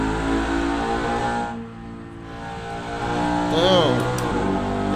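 A car engine revs in the racing game Assetto Corsa, a steady loud drone that dips briefly and then climbs again with rising pitch sweeps near the end of the run.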